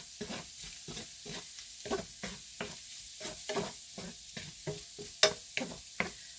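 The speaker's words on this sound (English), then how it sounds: "So I just stir my shrimp around in a tablespoon of butter and that Creole seasoning until they get nice and pink" Shrimp sizzle in a tablespoon of butter with Creole seasoning while being stirred, a soft, steady frying hiss broken by regular scraping strokes of the utensil in the pan, close and fairly quiet.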